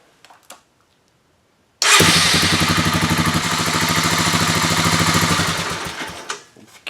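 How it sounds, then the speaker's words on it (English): After a short quiet, a Honda FourTrax 300 ATV engine catches and runs with a loud, steady buzzing rattle for several seconds before cutting off. "now I'm going to start the engine up for a moment."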